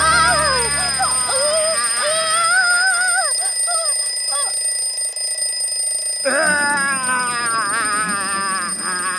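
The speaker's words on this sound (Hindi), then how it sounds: "अरे कोई आके इस अलार्म क्लॉक को तो बंद करो" An alarm clock rings with a constant, high electronic tone throughout, steady and loud, while animated characters talk and exclaim over it.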